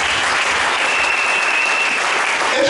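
A church congregation applauding, with dense, loud, continuous clapping filling the room for a few seconds without a break.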